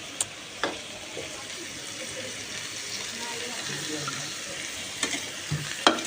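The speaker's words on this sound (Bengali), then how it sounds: "এখন খিচুড়ি রান্না হচ্ছে" Khichuri of rice and vegetables cooking in a pot at a picnic, a steady soft sizzle with occasional clinks of a stirring spoon against the pot, while voices talk faintly in the background.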